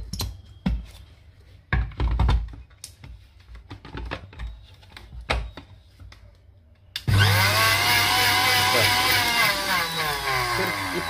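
An electric grinder grinds mastic gum: after several seconds of quiet clicks and handling, the motor bursts into a loud, steady whirring roar whose pitch slowly shifts as it runs.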